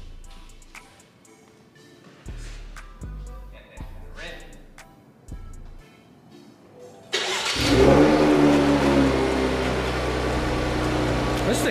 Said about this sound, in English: This thing sounds mean with the exhaust, doesn't it?